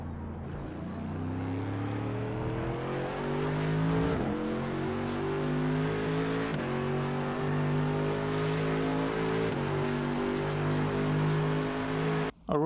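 A Mercedes-AMG GT3 race car at Spa in the iRacing sim roars steadily under full throttle, engine note climbing through the gears with brief dips at each upshift, loud and continuous with no talking.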